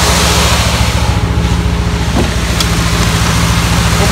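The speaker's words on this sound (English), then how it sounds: "Open it up, you can certainly hear the fan." Continuous broadband whoosh of a BMW E30's radiator cooling fan running up close, steady and loud, with a low mechanical hum underneath.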